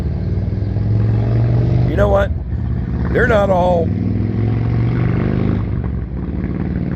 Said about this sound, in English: fellow motorcycle rider right there. Loud pipes save lives.